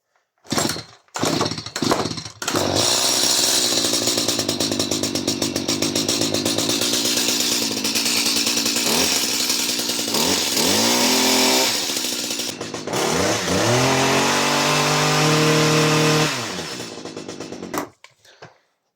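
A STIHL HS 45 petrol hedge trimmer, not started for a while, takes a few short sputtering pulls. It then catches and runs loud and buzzing nearby, with the revs rising and falling as the throttle is blipped, before it cuts off abruptly.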